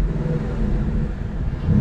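A car with a stock exhaust idles nearby, a steady, quiet low rumble that holds even for about two seconds and swells slightly at the end.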